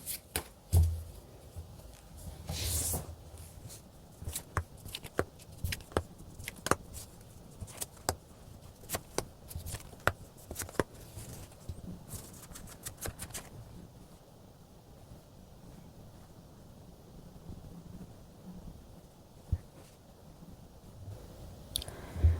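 Tarot cards are shuffled and drawn at close range, giving a steady run of crisp clicks, flicks and soft slaps with brief pauses and no voices.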